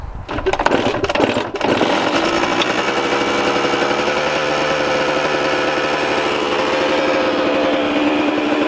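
A Kawasaki KX125 dirt bike engine runs on choke with a loud, steady, rapid buzzing drone. It settles into a continuous close-up note after a few rough, uneven bursts at the start, with no talking.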